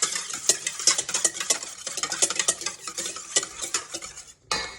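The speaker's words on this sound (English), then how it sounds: "Now we're gonna mix in 1 egg." An egg is mixed into waffle batter with a utensil scraping and clinking rapidly against a bowl, a close, busy, continuous stirring with a brief pause near the end.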